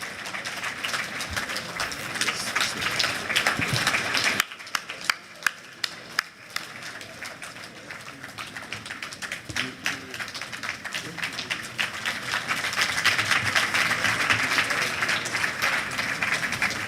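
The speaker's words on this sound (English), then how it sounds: "Please, let's applaud this moment." A large conference audience applauds in a sustained wash of clapping that dips briefly to scattered claps, then swells again, with a voice speaking over part of it.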